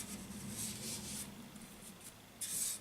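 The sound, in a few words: wiping a paint tin lid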